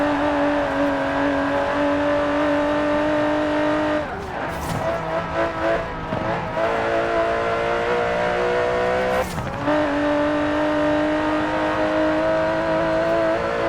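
A 5.2-litre twin-turbo V12 Aston Martin DB11 in the Forza Horizon 4 racing video game holds a loud, steady engine drone, broken twice by brief shifts or tyre squeals before it returns to a sustained roar.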